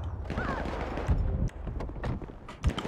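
Rapid gunshots in GTA 5 during a police patrol shootout, a dense volley of loud cracks over a busy game background, with some speech mixed in.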